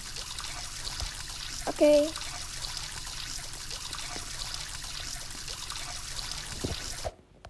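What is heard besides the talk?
shower water running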